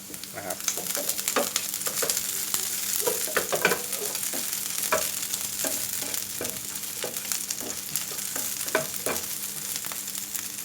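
Crushed garlic stir-frying in rendered pork fat, a steady close sizzle with spatula scrapes and taps against the pan at irregular intervals.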